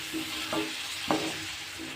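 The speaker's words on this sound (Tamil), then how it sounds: "நல்லா கிளறி விடலாம்." Bitter gourd thokku with chicken masala powder being stirred in a sizzling pan, a steady frying hiss with a few soft scraping strokes of the spoon.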